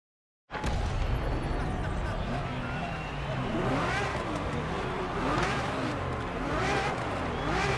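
A Ferrari F50 supercar in The Crew Motorfest racing game fires up abruptly after a short silence. Its engine then revs and roars continuously at close range, with no voices.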